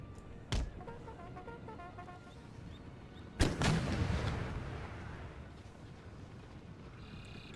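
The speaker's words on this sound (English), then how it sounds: "Canister fire, even at range, taking a toll on their advance." Canister artillery in an Empire Total War battle: two sharp, distant-sounding cannon blasts about three seconds apart, the second followed by a rolling rumble that slowly fades, over faint battlefield ambience.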